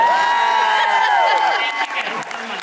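A crowd at a Supernatural convention panel in Columbus with Jensen Ackles and Jeffrey Dean Morgan cheers and claps loudly, with high whoops and shrieks over steady applause that thins slightly toward the end.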